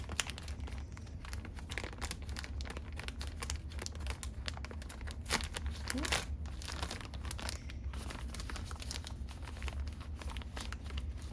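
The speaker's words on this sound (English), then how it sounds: "I can never open these boxes neatly. For some reason, they always rip for me." Crinkly plastic and card of a POP MART Hello Kitty x Monsters Labubu pendant blind box being ripped open, a steady close rustling and crumpling with a couple of sharper tearing bursts midway.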